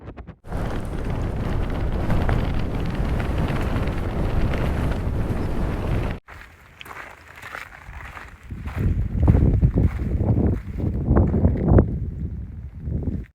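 Intense wind pours down a mountainside on a desert trail, a loud roaring gust buffeting the microphone that cuts off abruptly, then returns as uneven, surging blasts of lower rumble.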